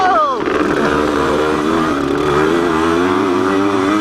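A racing motorcycle engine snarls loudly and up close during a race, its pitch dipping and then holding a buzzing, strained drone throughout, with commentary voices over it.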